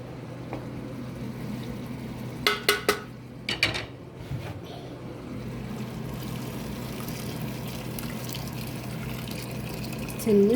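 Water poured into a cooking pot of bamie (okra stew), a steady liquid wash over a low kitchen hum, with a few sharp metallic clinks of pot and utensils early on.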